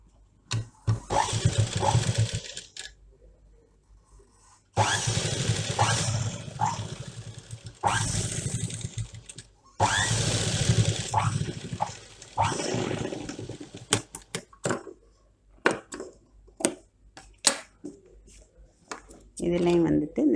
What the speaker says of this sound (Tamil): இப்படி சேர்த்து இப்போ தையல் போடலாம்.